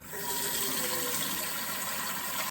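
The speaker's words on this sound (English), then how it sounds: "I'll put fresh water out" Tap water runs steadily into a cat's water bowl for about two seconds, a close, even gushing stream that stops abruptly at the end.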